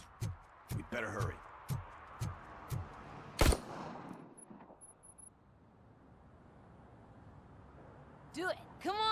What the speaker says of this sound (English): Gunshots? That was close.